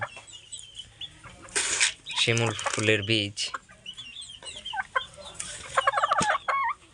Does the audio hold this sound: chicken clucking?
yes